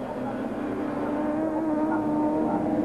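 Touring cars from the 1994 German Supertouring championship race past at the Nürburgring, a steady, loud engine drone holding under the commentary with no clear pass-by swell.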